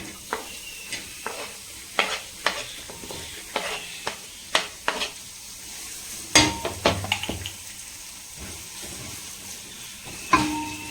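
Onions frying in heating oil in a pan on high flame, with repeated stirring scrapes and clatters over a soft sizzle, close and moderately loud, no talking.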